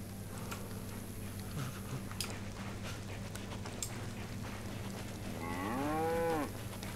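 A single cow lets out one drawn-out moo inside the snowy DayZ Winter Livonia map, rising clearly over a faint steady background hum near the end, with no voices.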